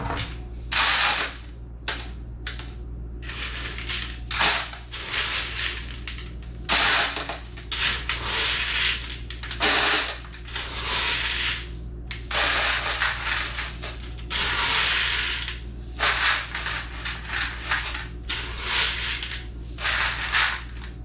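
Gravel poured into a bucket with drainage holes, bursts of rattling, clattering stones against the container, repeated in irregular pours close up with brief pauses between.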